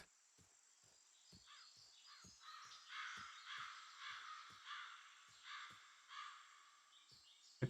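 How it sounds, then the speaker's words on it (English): Ambient birds in Shenmue 3: repeated crow caws over a steady chirping of crickets, with rhythmic ticking clicks throughout, fairly soft and distant-sounding, with no talking. "Appreciate the ambient bird sounds."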